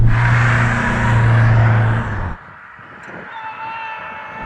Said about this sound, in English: There's the tuk-tuk.